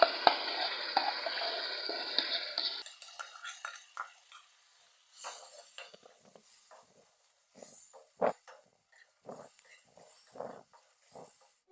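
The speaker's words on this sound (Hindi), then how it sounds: "अब हम इसमें दाल ऐड करेंगे।" Moong dal tipped into fried tomato masala in a pan, dhaba style: a loud steady sizzle at first, then quieter sizzling broken by a series of sharp scrapes and clinks from stirring.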